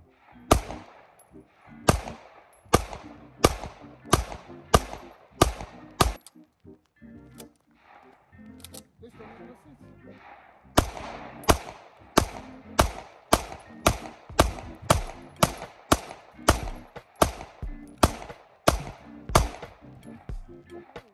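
Sharp pistol shots from a Nighthawk Sand Hawk 1911, fired in two rapid strings of evenly spaced cracks with a short pause between them, loud and close outdoors.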